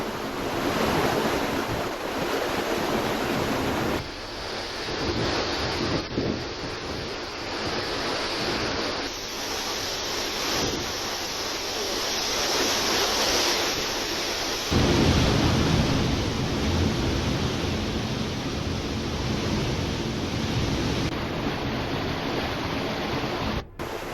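The flooded Ganga rushes above its danger mark during heavy rain, a loud continuous roar of churning water with wind buffeting the microphone.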